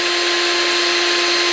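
A power drill bores into a stripped body screw on a Kawasaki. It runs as a continuous, steady, close whine with no pauses.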